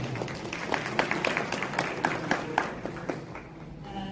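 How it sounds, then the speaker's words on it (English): An audience at an open iftar event in London applauds a speaker's introduction, moderate crowd clapping, fairly quiet and slightly distant, tapering toward the end. "Round of applause."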